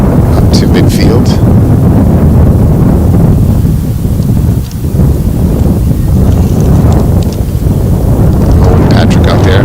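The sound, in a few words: wind blowing on microphone at outdoor soccer game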